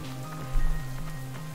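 Steady rain in the survival video game The Long Dark falls as a constant soft wash with a low droning hum underneath, fairly quiet and unbroken, with no voices.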